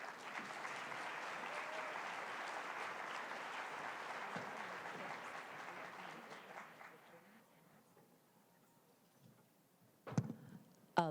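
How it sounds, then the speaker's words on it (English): Audience applause at a summit, a sustained wash of clapping from a large crowd that gradually fades out after about six seconds, followed by near quiet and a couple of brief handling noises near the end. "Please give her a round of applause."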